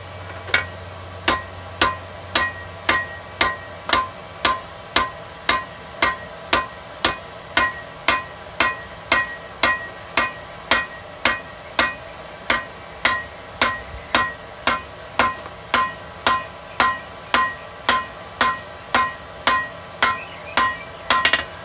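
Steady, ringing hammer blows on hot steel while forging hammer-eye pick-up tongs by hand, roughly three dozen evenly spaced metallic strikes in a brisk, unbroken rhythm, close and loud.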